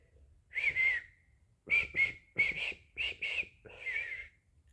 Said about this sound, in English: Can't even whistle right now.